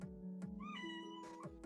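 A pet cat meows in a short, clear, close-up call, a single drawn-out meow with rising then falling pitch, heard alone without talk.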